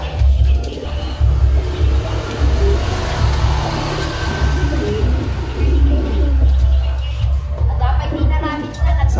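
A racing pigeon coos softly in low, repeated murmurs after landing at its loft during a Lucban, Quezon training race, over a steady background hum with faint voices.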